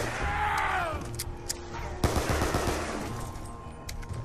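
Pistol shots ring out in the Buried map of Black Ops 2 Zombies, a handful of sharp cracks after a sweeping game effect, with one loud report standing out over background game ambience.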